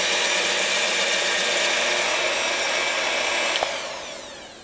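Egg whites being beaten until stiff for a cheese soufflé give a steady, bright whirring hiss that holds for several seconds and then fades toward the end.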